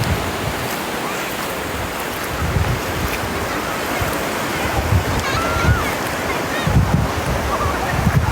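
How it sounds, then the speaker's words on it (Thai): Sea waves wash onto a beach at Chao Lao in steady wind, a loud broadband roar with gusty microphone buffeting, while faint voices come and go beneath it. "ทำไมทะเลมันถึงมีคลื่น"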